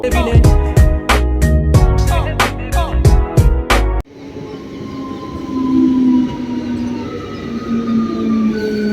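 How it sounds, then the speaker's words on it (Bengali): Interior of a moving train with a steady low rumble and rattling carriage noise, preceded by a few seconds of loud rhythmic clatter, with a faint tonal hum running through. "ট্রেনে উঠে পড়েছি"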